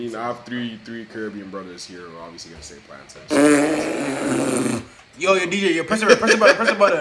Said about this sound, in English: Did you just fart, fam?